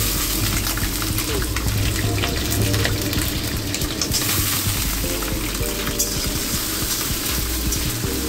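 Potato pieces fry in hot oil in a pan, giving a loud, steady sizzle and crackle that runs without a break and without any talking.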